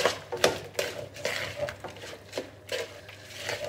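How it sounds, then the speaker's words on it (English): Spoon stirring lamb tikka masala ingredients in a metal pot, irregular scraping clinks and knocks against the pot, close and moderately quiet, with no voices. "Now I'm going to stir this all in."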